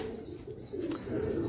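A Teddy breed pigeon coos close by in soft, low, repeated murmuring pulses, quiet and continuous throughout.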